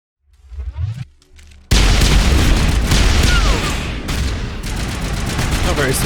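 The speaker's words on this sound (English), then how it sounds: "sabotage this guy to blow up his weapons." Enemy weapons sabotaged to blow up in Mass Effect Legendary Edition: a few quiet game tones, then a sudden loud blast that rolls into sustained crackling gunfire and explosive rumble, staying dense to the end.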